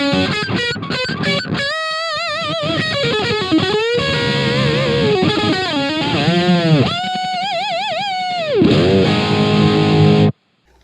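Heavily distorted electric guitar played through a Gokko AXE MX300 multi-effects unit with the distortion gain set at 12 o'clock, loud sustained chords and bending lead notes running steadily before cutting off near the end.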